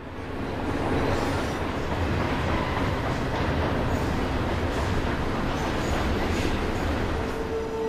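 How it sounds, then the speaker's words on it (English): A CSX intermodal freight train rolls past steadily, a dense continuous rumble of wheels and rail clatter holding loud and even from start to finish. "Our next westbound is Columbus, Ohio to Chicago intermodal train Q147."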